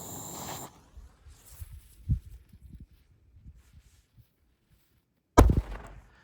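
A Soccer Ball firecracker bursting once in a single sharp, loud bang near the end, after a quiet stretch of faint rustling.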